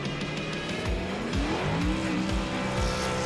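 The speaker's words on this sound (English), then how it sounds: "It looks like we still hear drivers doing burnout." NASCAR trucks doing burnouts at Daytona in the iRacing Truck Series game: a continuous roaring engine with shifting revs and squealing tires, loud and close, with no talking.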